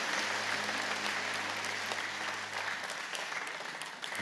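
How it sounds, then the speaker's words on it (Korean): Sustained applause from a sizeable church congregation indoors, steady clapping throughout that slowly thins toward the end. "여러분 교회 박수로 환영하시죠"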